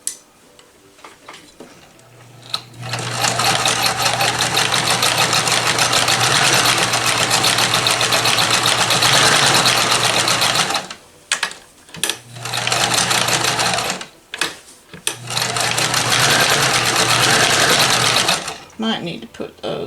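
A vintage Dressmaker sewing machine stitches its special stitches up close, running in loud, steady mechanical bursts separated by short pauses and a few brief stops.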